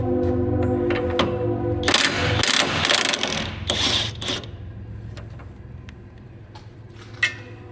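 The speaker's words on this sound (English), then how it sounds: "we're going to remove this bolt right here." A hand ratchet clicks in quick rapid bursts while loosening the lower shock bolt on a Chevrolet Corvette C8 track car, close and loud, with metallic rattles and a sharp clank near the end.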